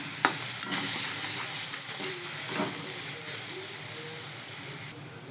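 Fried capsicum (shimla mirch) sabzi stirred in a hot pan, a steady close sizzle with scraping spoon strokes and clatter, the frying hiss easing near the end.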